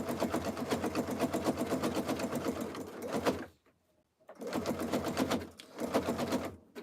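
A sewing machine stitching fabric strips for a jelly roll rug, a fast, steady rattling hum that runs for a few seconds, stops briefly, then starts again in two more runs.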